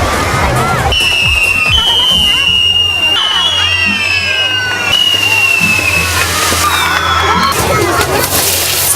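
Fireworks crackle and pop amid a crowd's babble and cheering outdoors, with whistling rockets rising over the noise.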